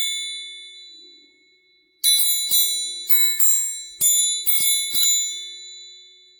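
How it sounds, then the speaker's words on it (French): A wooden children's toy triangle from a set of kids' wooden instruments, struck about seven times, giving bright ringing metallic dings with sustained overtones. The strikes come close together in two bursts, near and loud, with no talk. "Ça sonne bien, le triangle."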